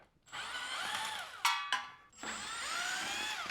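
Power drill backing out paint-covered ceiling fan bracket screws, a short whirring burst, a brief gap with sharp clicks, then another whir, close and moderately quiet with no talk.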